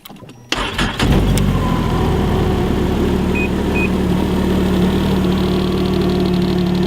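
A Ski-Doo Skandic SWT 900 ACE four-stroke snowmobile engine cranks and catches after a brief quiet moment, then settles into a steady, loud, close idle with a continuous low rumble.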